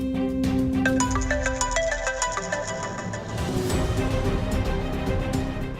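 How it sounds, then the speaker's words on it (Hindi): Mobile phone ringing with an incoming call, a bright repeating melodic ringtone played loud and close, then giving way to busier mixed background sound without speech. "आकाश का फोन मुझे क्यों आ रहा है?"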